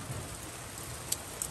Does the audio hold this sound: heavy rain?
yes